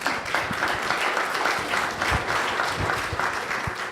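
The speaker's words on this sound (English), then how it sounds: "Give her a round of applause" Applause from an audience at a candidate town hall, steady dense clapping from a sizeable crowd that fills the room throughout, close and continuous.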